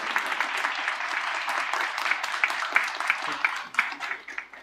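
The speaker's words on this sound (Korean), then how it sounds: "박수 한번 더 주시는군요" Applause from the audience at a book concert, moderately loud clapping with individual claps standing out toward the end, heard with some voices underneath.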